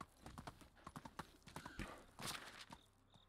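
Rapid, light donkey hoof clops at a walking pace in the video game Medieval Dynasty, fairly quiet, with a faint background hum.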